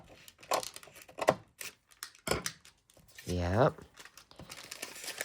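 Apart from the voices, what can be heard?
cutting paper for a junk journal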